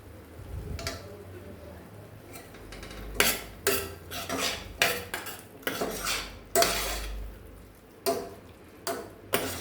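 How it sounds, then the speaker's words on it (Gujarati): Chole masala and spices are stirred together in a metal pan. A spoon scrapes and clanks against the pan in an irregular series of close, sharp strikes, each followed by short scraping swirls. "હવે બધી જ વસ્તુને આપણે બરાબર મિક્સ કરી લેશું"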